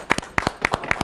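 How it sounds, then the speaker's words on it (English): Audience applause in a TV talk-show studio, heard as a short burst of sharp, evenly spaced claps in pairs, fairly close and moderately loud, with no talking. "Big round of applause to them."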